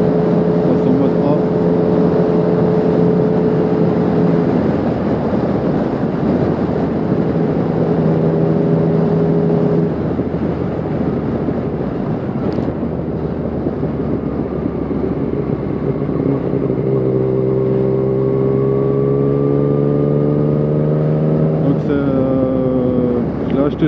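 Yamaha MT-09 motorcycle fitted with an Arrow exhaust and quickshifter, its engine running loud and steady throughout, with rising rev sweeps near the end and a voice talking over it.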